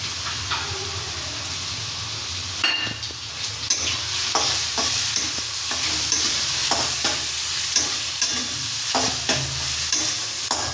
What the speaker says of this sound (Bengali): পেঁয়াজ রসুন লঙ্কা লাল না হওয়া পর্যন্ত নাড়তে থাকব